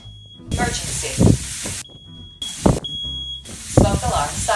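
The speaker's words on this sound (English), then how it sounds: "Smoke alarm silence in the kitchen." Smoke alarm beeping in a home kitchen during cooking, a steady high electronic tone that cuts in and out in several repeated bursts over background kitchen noise and scattered voices.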